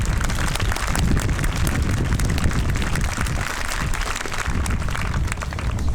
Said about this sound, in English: another round of applause for Dr. Westfall